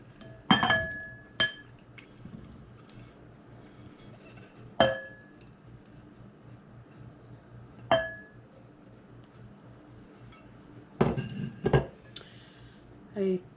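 A spoon clinks against a bowl while potato salad made with red potatoes is mixed after a dash of black pepper: a few sharp, separate knocks spaced seconds apart over a quiet room.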